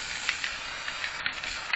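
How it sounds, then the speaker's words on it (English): An aerosol spray can about a quarter full sputters weakly, producing a thin, uneven hiss with small crackling pulses and no voices. "this can ain't spraying too good. Usually they spray pretty good."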